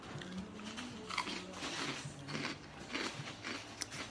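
Someone crunches and chews a mouthful of SpongeBob cereal, close and steady, with soft bites and crackles repeating over about four seconds and no talking.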